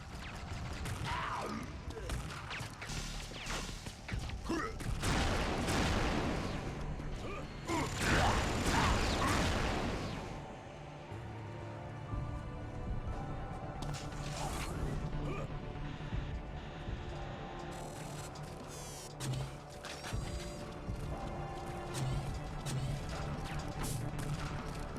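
Frantic Unreal Tournament 2004 combat fills the scene with bursts of gunfire, crashing explosions and mechanical weapon noises, swelling into loud blasts before settling into scattered shots.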